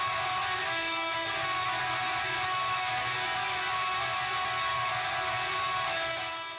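Black metal generated by a neural network, a dense, hissy wall of distorted guitars and blurred drums roaring continuously at a steady level, lo-fi and harsh, with no speech over it.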